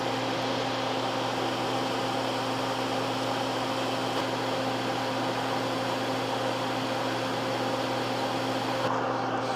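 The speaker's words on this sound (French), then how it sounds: "On part le ventilateur, ça va être bruyant." A steady electric fan whirring continuously at moderate level in an electronics workbench setting, an even hum with a constant tonal drone and airy hiss, no voices.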